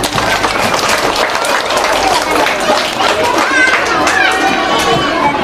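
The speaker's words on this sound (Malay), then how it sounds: "Tepuk tangan." A crowd of children at a primary school Maulid Nabi gathering clapping together, a dense steady patter of hands with lively chatter mixed in throughout.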